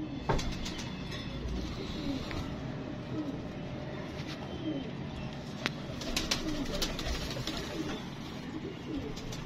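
Pigeons coo steadily at a loft, soft repeated calls layered over a dense, continuous outdoor murmur with a few sharp clicks, moderately near and never rising far above the background.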